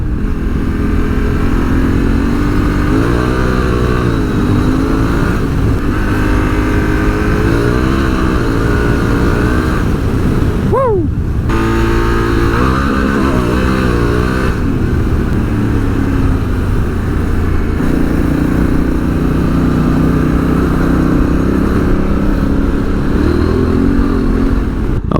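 A 2022 Honda Africa Twin motorcycle riding on gravel in gravel mode, its engine droning loud and steady, rising and falling with gear changes, with a constant rush of wind and tyre noise throughout.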